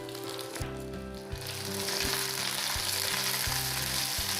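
Onions sizzle loudly in hot oil with mustard seeds and garlic while making a spinach and potato stir fry, a continuous crackling fry that swells after a brief stir, with a steady low hum underneath.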